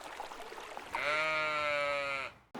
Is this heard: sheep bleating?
yes